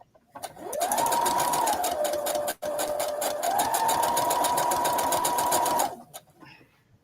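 A sewing machine stitches fabric scraps in two long steady runs broken by a brief pause, its fast needle chatter loud and close with a whining motor tone, then winding down at the end.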